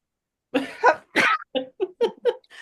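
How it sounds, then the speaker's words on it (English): A person sneezes with a couple of sharp bursts followed by several short throaty coughs or gasps, close and fairly loud. "I'm gonna sneeze."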